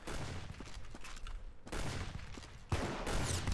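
Gunfire in the Roblox Arsenal video game, rapid overlapping bursts of shots that come and go over a few seconds, fairly quiet overall.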